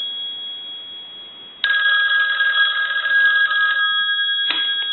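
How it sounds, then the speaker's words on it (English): An AT&T single-slot payphone bell rings in one loud, steady burst lasting about two seconds after a quiet start, then a brief second jangle near the end. "So I'll go ahead and ring the telephone."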